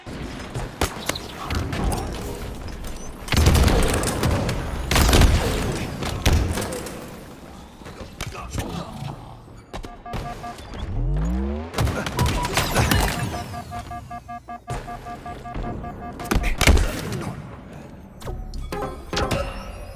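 Gunfire and grenade blasts in a Halo match at the HCS Major in Arlington: bursts of rapid shots mixed with heavy thuds and booms, coming in clustered waves at close range.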